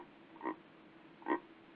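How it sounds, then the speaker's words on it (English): Two short croaking calls of an Iberian frog, about a second apart, each a brief harmonic burst standing alone over a faint background hiss. "that's a charming frog call"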